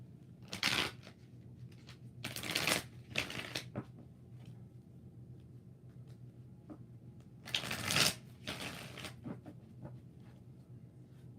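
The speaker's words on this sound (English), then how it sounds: "4 shuffles for Eliza." Tarot cards being shuffled by hand in a series of brisk riffling bursts, several in quick succession, a pause, then two more, close up and fairly loud over a quiet room with no talking.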